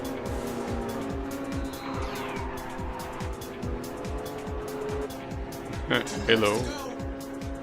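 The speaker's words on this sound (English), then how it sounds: "Like, the sound of the engine is really deafening." A race car engine roars in Ridge Racer 7, loud and continuous with pulsing gear-shift sweeps, tires squealing briefly near the end while a voice speaks over it.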